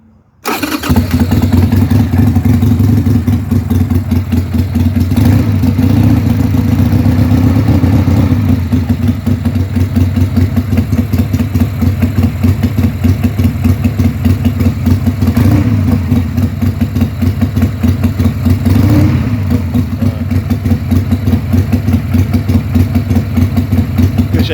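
A hot-wired 1991 Sportster motorcycle engine catches right after a short start and settles into a loud, steady, low rumbling idle that carries on throughout, with occasional slight swells in engine speed.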